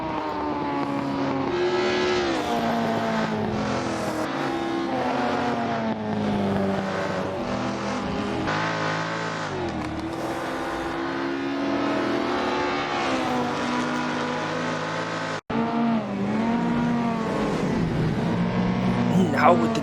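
Race cars from a British Saloon Car Championship round in Assetto Corsa, including a Mustang and a Mini, drone steadily with layered engine tones throughout, with a commentator speaking over them and a brief cut near the end.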